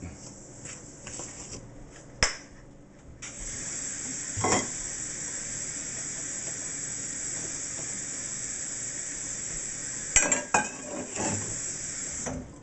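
Bread dough for cracked wheat and oatmeal straight-dough loaves being mixed in a kitchen, a steady sizzling, churning hiss with a few sharp clatters of utensil or bowl near the start and end, no talking.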